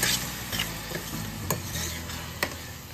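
Chopped tomatoes sauté in a pan for street-style pav bhaji, a steady close sizzle broken by a few sharp scrapes and taps of a spatula being stirred through.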